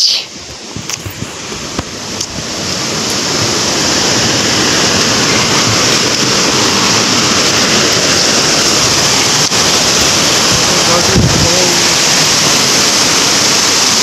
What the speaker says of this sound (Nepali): ड्याम गइरहेछ ल पानी गइरहेछ ड्यामबाट